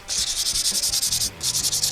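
Rhythmic sanding strokes on a Mazda MX-5 Miata (NA) metal valve cover, a fast series of rasping back-and-forth scrapes, close and steady with a brief pause midway.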